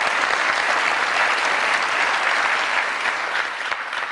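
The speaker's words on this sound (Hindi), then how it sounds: "बहुत सारी तालियों में वेलकम कीजिएगा मोहतरमा मुनज़्ज़ा हसन साहिबा जी।" A studio audience on a comedy talk show claps steadily to welcome a guest, close and full, a dense even roar of hands with no talking.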